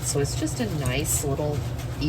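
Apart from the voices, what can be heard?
No everyday noises stand out.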